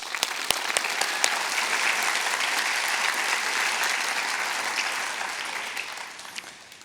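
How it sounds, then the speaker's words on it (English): Sustained audience applause at a Kent State Geauga and Twinsburg Academic Center commencement ceremony, a dense wash of many clapping hands that holds steady for several seconds before tapering off, with no talking over it. "Let us give them a round of applause for their dedication and hard work"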